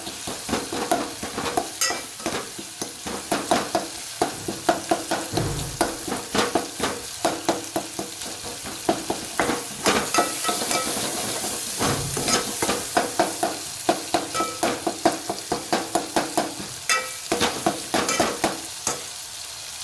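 Masala with tomatoes stirred in a pan on the stove, a steady run of close scraping and sizzling strokes repeating every half second or so, with a soft sizzle underneath throughout.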